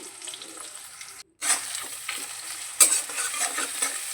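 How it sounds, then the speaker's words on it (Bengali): Onions frying lightly in oil in a pan for doi katla fish curry, a steady close sizzle with scraping stirs throughout, broken by a brief silence before the frying resumes. "পেঁয়াজটা হালকা ভেজে নেব"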